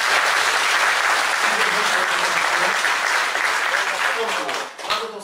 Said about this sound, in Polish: Wielkie brawa dla pana Mosberga